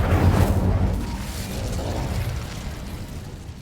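Incendio fire spell cast in Hogwarts Legacy, a loud whooshing burst of flame that starts strong and trails off into a low, fading rumble.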